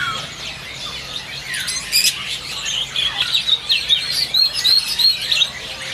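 A caged cucak cungkok songbird at a bird shop chatters and whistles in quick, high, trilling phrases. The song grows busier and louder toward the end, with no talking.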